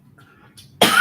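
A single abrupt, close cough bursts out after near silence and sounds rough and breathy.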